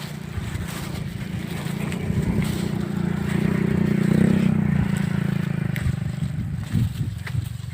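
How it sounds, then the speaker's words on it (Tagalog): A motorcycle passing along a rural road, its engine hum growing louder as it nears, peaking mid-way, then fading as it moves off, heard from the roadside. "May motor."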